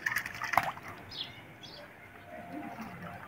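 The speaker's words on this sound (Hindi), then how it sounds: "पानी में नहा रहे हैं" Faint splashing of pigeons bathing in water, with a soft coo and a brief flutter near the start, then quiet rippling water sounds at low level.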